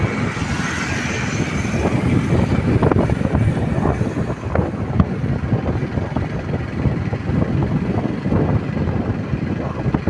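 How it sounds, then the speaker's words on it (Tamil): Steady engine drone with heavy wind buffeting throughout, like riding a motorbike at speed, continuous and loud with no pauses. "பைக்கில் போயிட்டுருக்குறோம்"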